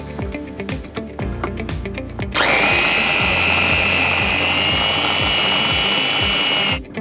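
An electric blender whirs to life, blending a chickpea-style vegetarian burger mixture in a kitchen; after a few seconds of clatter it runs as one loud, steady high-pitched whine for about four seconds before cutting off.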